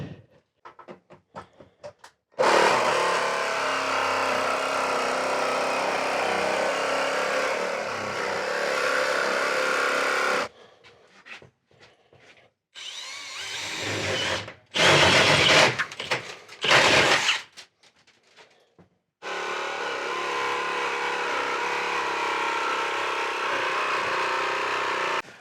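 A jigsaw cuts a vent hole through a ceiling, its steady buzzing drone running in long bursts separated by short pauses and choppy stop-start stretches.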